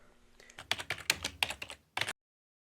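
Computer keyboard keys are pressed in a quick burst of close, crisp clicks while a variable name is entered, followed by a short pause and a final pair of keystrokes.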